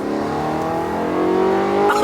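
A modified BMW E92 M3 on air suspension accelerates hard on a drive, its engine note climbing steadily and loud from inside the car, with a brief rise in pitch near the end.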